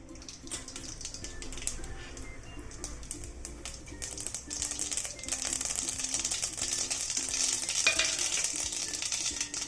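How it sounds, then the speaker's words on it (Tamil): Mustard seeds crackle and pop in hot oil, a steady sizzling with rapid sharp spits that grow busier toward the end. "கடுகு தாளிக்கணும்."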